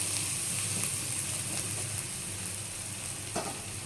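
Chopped onions sizzle and fry steadily in a pan, turning nearly red, with a brief stirring scrape near the end and no talking.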